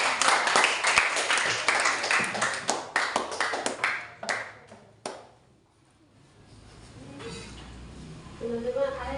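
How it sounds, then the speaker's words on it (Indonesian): Classmates at a teacher-training session on ecology and biodiversity clap for a presenting group, a burst of scattered, fairly close claps that thins out within five seconds and fades to quiet before voices return. "tepuk tangan untuk kelompok"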